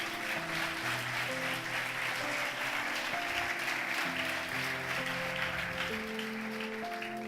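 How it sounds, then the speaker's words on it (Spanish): A church congregation applauds steadily as a band plays underneath, the clapping a dense, continuous wash that holds at an even level throughout. "Denle un aplauso fuerte a él, por favor."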